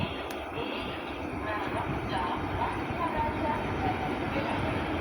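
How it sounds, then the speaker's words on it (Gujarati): Passenger train pulling in at a Porbandar railway platform, a steady low rumble and rolling wheel noise holding at a fairly even level throughout, with a brief sharp squeal near the start. "પ્લેટફોર્મ નંબર 3 માથે આવી છે, પોરબંદર હે ટ્રેન।"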